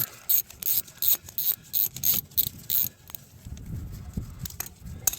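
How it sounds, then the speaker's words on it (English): A ratchet with a 10 mm socket and a short extension loosening the ABS sensor bolt on a 2008-2013 Nissan Rogue during CV axle replacement: about eight rapid, close clicking bursts, then quieter mechanical rustling. "now using a 10 millimeter with a little bit of an extension, we're going to go ahead and get this 10 millimeter bolt loose"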